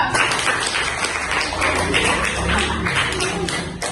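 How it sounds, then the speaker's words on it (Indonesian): A classroom group applauds a student presentation group, a steady wash of clapping lasting several seconds with voices faintly underneath. "Beri tepuk tangan untuk kelompok 2"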